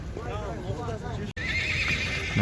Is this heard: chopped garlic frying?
no